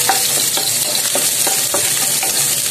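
Garlic and ginger sauté in a hot pan, a steady loud sizzle broken by regular stirring scrapes about every half second.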